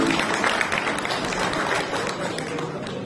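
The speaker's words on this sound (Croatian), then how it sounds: "Jednim velikim pljeskom pozdravimo i našu zamjenicu i predsjednicu turističke zajednice" An audience claps together at an evening of folk song and dance in Klokočevik, a dense, steady burst of applause that holds for a few seconds and then eases slightly.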